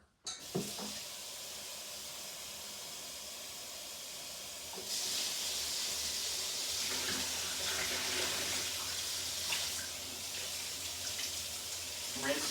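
Running water from a tap rinses out a fursuit head, a steady close hiss of flowing water that grows fuller and louder partway through.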